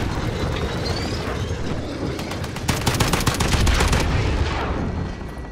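Rapid automatic rifle fire in a Modern Warfare multiplayer match, with a dense burst of loud, close shots in the middle over a constant rumble of other distant battle noise.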